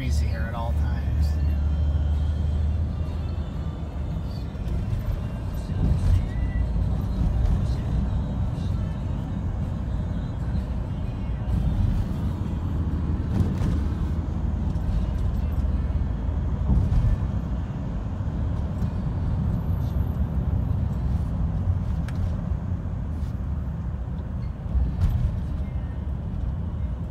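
Steady road traffic streams past on a busy street full of cars, including electric ones, a continuous loud rumble with occasional louder passes and no talking.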